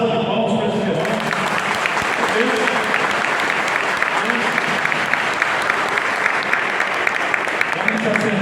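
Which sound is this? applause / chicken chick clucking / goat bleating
applause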